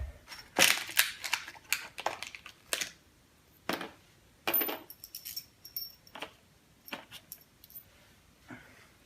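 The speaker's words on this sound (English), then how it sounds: "So let's get a couple bolts and put it on there." Metal bolts clink and rattle as they are handled to mount a PowerBlock chin-up bar, a scattered run of sharp, close metallic clicks and jingles with quiet gaps between them.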